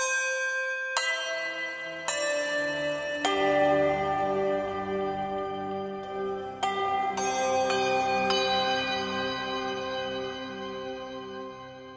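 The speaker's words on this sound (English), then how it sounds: "with foundry bells being played by swinging the bells." Foundry handbells swung by hand, from the LABS Bell Swarm software instrument, ring out in a series of bright, clear strikes, each new stroke layering over the long shimmering decay of the last, building a full, sustained metallic wash with no talking.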